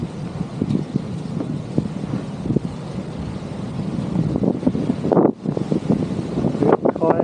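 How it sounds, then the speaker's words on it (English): Strong wind at a beach deck near kayaks on the water, a steady rumbling buffet on the microphone with gusty bursts throughout. "Now it's very windy now"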